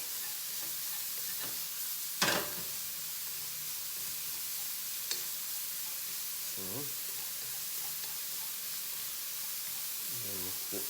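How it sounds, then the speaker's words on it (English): Ground pork browning in a pan for Cantonese shrimp with lobster sauce gives a steady, moderate sizzle with a few sharp clinks of stirring and scraping, and no voices. "You want to just break up all that ground pork. And get it all nicely browned."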